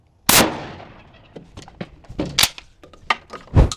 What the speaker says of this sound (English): every time I shoot the 12 gauge and we shoot a slug